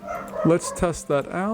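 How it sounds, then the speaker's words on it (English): A dog barks and yips in the background, a few sharp, fairly loud barks in quick succession, partly overlapping someone speaking. "Excuse my dog in the background if you hear her."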